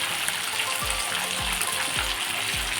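Vera fish, a freshwater fish, sizzling as it fries in a pan: a continuous bright crackling hiss with a few soft low thumps at regular intervals, close and fairly loud, with no talk.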